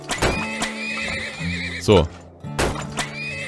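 Horses in the Turmoil video game give loud, close whinnies with shaky descending neighs, mixed with clip-clop hoofbeats and a steady game tone, while someone speaks briefly.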